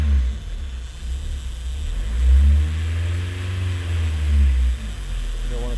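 A vehicle engine is held at high revs right after a fuel filter change, when air is in the fuel line. It gives a loud, steady low rumble that rises and falls slightly as the throttle is held up.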